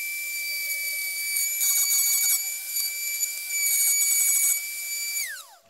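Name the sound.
Dremel with spiral cutter on plunge base carving wood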